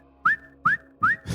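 A voice imitates a long whistle heard outdoors at night, giving three short rising whistled tones in an even rhythm, close and clear, with a noisier burst at the end.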